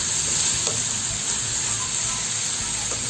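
Steady, close sizzling of fish frying in butter in a pan, a bright hissing crackle that stays even throughout with no voices.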